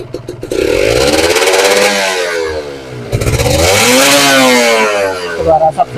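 A two-stroke Kawasaki Ninja RR motorcycle engine is revved hard twice, each rev rising to a loud raspy howl and falling back, very close and loud.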